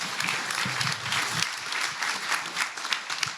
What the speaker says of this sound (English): let's give a big round of applause and thanks to our panelists